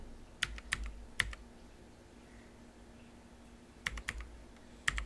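Computer keyboard keys being typed, heard as two short bursts of sharp, close clicks separated by a quiet pause, with no voices.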